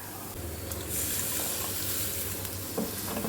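Water poured into a hot pan of onion chutney with tamarind, a loud, close burst of hissing sizzle that holds steady for a few seconds without any voices.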